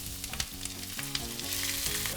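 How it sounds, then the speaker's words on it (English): Olive oil sizzles in a pan while potato rosti fries, a dense, continuous crackling hiss up close, with faint scraping and stirring knocks mixed in and no talking. "Once you see it sizzling,"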